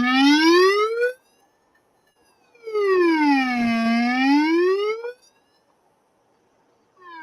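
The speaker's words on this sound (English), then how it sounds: "And the siren" A loud electronic siren from a portable solar-powered emergency light wails up and down in two long sweeping cycles, separated by a short pause, with another starting at the end.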